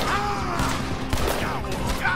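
Dense, continuous Red Dead Redemption 2 gunfire, rapid overlapping shots over music and game noise with a voice talking.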